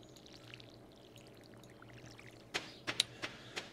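In the Stardew Valley video game, a watering can pours water on crops. A soft trickling stream plays over a quiet background, then several short splashy bursts follow in quick succession.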